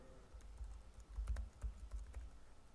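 Fingers typing on a computer keyboard: a quiet, irregular patter of soft key clicks in short bursts with small pauses, close and alone without speech.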